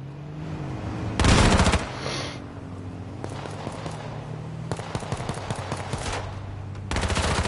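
Rapid bursts of gunfire in the H1Z1 survival shooter, with loud, sharp automatic volleys and scattered single shots in clusters across a tense exchange, no speech over them.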